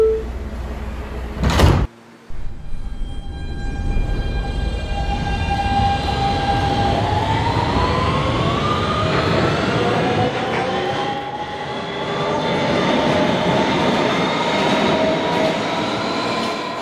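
Kawasaki R160B subway train in a Roblox game: a sharp door-closing thump, then the train departs with a rising electric motor whine and steady rolling rumble building over many seconds.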